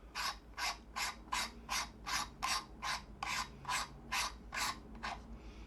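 A camera lens is screwed onto the threaded mount of a webcam, producing about eleven evenly spaced, close, gritty ratcheting rasps as it turns.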